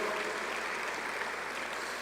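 A church congregation applauds the fathers during a Sunday sermon, a steady, moderately distant wash of clapping that holds evenly for the whole stretch with no talk over it.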